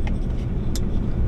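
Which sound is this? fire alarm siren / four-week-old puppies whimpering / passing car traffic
passing car traffic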